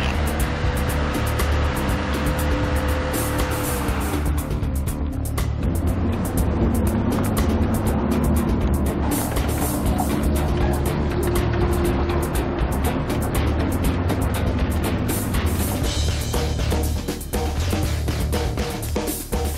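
A van grinds slowly along a deep, muddy road rutted by tractor tracks, its engine labouring under steady broadband rumble and rattling for the whole stretch, with no talk.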